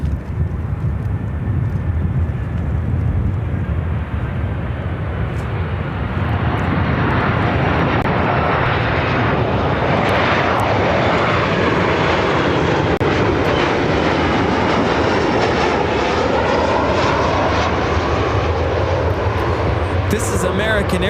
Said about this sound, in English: This is American Airlines 2457 coming in from Calgary on the 737-800.